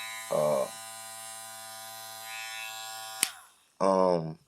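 Electric hair clipper fitted with a Pro style blade running close by: a steady buzzing drone holding for a few seconds, with brief louder bursts at the start and end, plus a sharp click partway through.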